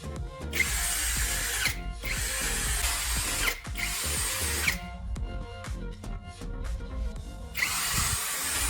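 A cordless drill with a restored red battery pack whirs up to speed in several strong, steady bursts separated by short pauses, close and loud, with a few mechanical clicks between runs.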